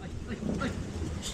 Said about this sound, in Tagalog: Kagulat yung mga aso.